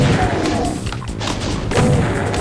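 Heavy crushing thuds as a crusher slams down on a Cyberdemon in Doom's Sunlust map 09, loud repeated smashing booms blended with constant game noise.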